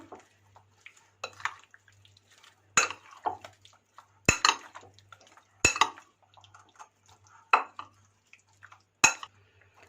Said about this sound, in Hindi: अब इसे हम अच्छे से मिक्स कर लेंगे कि अच्छे से इसकी कोटिंग हो जाए